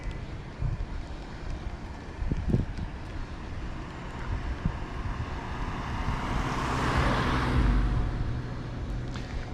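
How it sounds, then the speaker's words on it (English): A car passes on a hilly road, its broad rushing swell building from a distance and peaking close by, heard from a wheelchair user's head-mounted camera amid wind noise on the mic. "Looks like we got a car here coming through."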